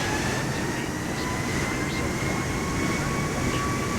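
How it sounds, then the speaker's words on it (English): Airplane engine throttling up in Flight Simulator 2024, a steady, loud, broadband roar that fills the whole moment without easing. "I gotta throttle up some here before I crash."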